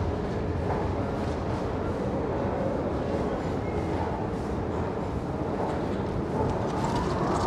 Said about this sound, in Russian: Это связано с тем, что поезд суперскоростной, он идет по туннелю